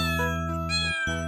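Cats meow in a cartoon nursery-rhyme setting beside a fire engine, giving two loud, close, drawn-out tonal meows with a short break between them.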